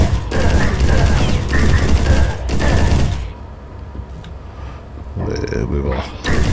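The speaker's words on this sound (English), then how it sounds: "Starting off with the machine gun is always nice." Dense machine gun fire in the video game Herald Of Havoc, a loud continuous rattling burst that stops abruptly partway, followed by quieter scattered game noise and a brief resumption near the end.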